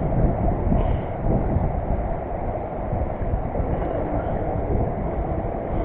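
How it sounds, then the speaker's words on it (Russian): Strong wind during winter ice fishing on a frozen lake buffets the microphone in a loud, continuous low roar and rumble, with no talk heard. "с таким ветром это сложновато ловить"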